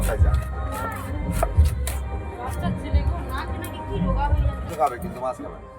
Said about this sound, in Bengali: এবার আমি মাছটা কেটে নেব